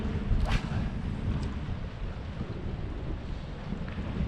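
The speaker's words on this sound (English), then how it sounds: "So it's pretty windy and a lot of current." Steady wind rushes and buffets across the microphone at a Florida inlet while surf fishing, a dense low rumble throughout with faint water and boat noise beneath.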